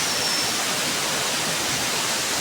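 Hidden waterfall at Bulusan, Sorsogon, a constant broad roar of falling water, loud and unbroken with no voices heard.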